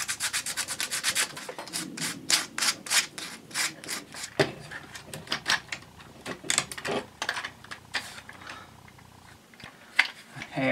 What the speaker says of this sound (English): A little sanding.